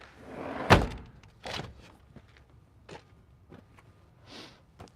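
Glass doors slide back and shut inside an off-grid 8x28 Craftsman tiny house, with a sharp thunk followed by several softer knocks and light rattles, fairly quiet and without talk.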